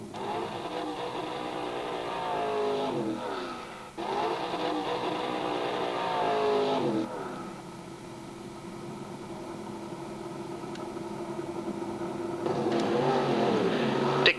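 A Corvette drag racing car making a qualifier run at a 1973–74 UK drag strip. Sustained engine roar and revving rise and drop in several surges, with a brief gap between pulls and a mix of engine tones toward the end.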